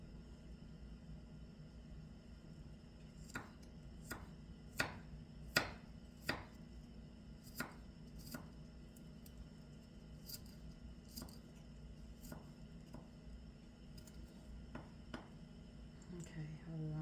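A knife mincing food on a board for an Egyptian eggah with ground beef and spinach gives sharp, quiet clicks in irregular bursts, about a dozen distinct cuts over a low steady background hum.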